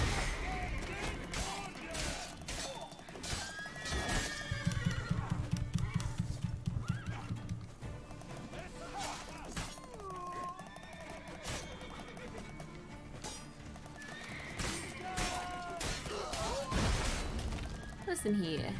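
A horse neighs and snorts amid clip-clopping hooves and busy game sounds, with a voice talking now and then over the mix.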